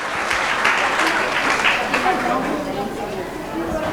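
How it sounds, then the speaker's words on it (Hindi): Loud, steady clapping from an audience at an Independence Day cultural performance, sustained throughout with crowd chatter mixed in. "सुभाष भाई के लिए बहुत ज़ोरदार तालियां।"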